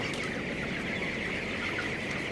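Broiler chickens about three weeks old, some suffering from a mild cold, cluck softly and continuously in a crowded poultry shed, a steady dense murmur of many birds with no talk.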